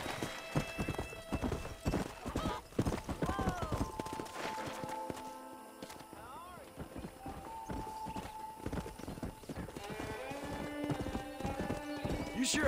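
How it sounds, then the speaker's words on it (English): Wild horses in the Red Dead Redemption video game clip-clop at a gallop with several loud neighs and whinnies, hooves drumming steadily and close among game music and ambience. "That ranch hand said there's a pack of wild horses."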